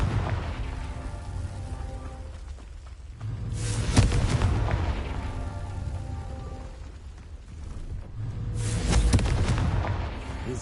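Confringo fire spell blasts in Hogwarts Legacy on PS5, two deep, rumbling explosions a few seconds apart, each swelling and fading over a continuous crackling, rain-like game backdrop.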